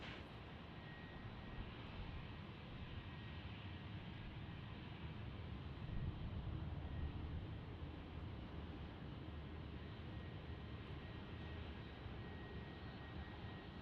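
Delta airliner rolling on runway 27 at San Diego, a steady distant engine roar that holds evenly with a slight swell midway, no talking.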